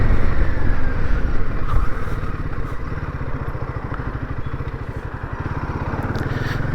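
Royal Enfield Himalayan 450 ridden along the Gosport coastline, its single-cylinder engine a steady, loud low thrum with a rapid regular pulse, wind rush over it throughout, no talking.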